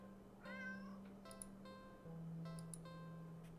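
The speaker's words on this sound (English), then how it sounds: "At the end of the alley, in a big cardboard box, is a cat." A black stray cat in a video game meows twice from a cardboard box at the end of an alley, each call a clear, close cry rising and falling over a steady low hum.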